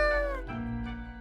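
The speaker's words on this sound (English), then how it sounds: "Meow, the cat mutters in contentment." A cat in the video game Death and Taxes gives a single short, clear meow that slides down in pitch, followed by a softer, quieter trailing murmur.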